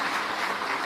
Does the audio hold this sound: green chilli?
no